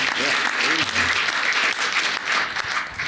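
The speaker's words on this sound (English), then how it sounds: "yeah, we can clap for that." Loud audience applause at the CPAC 2020 conference, dense clapping and some cheering filling the hall, with a voice briefly heard over it at the start.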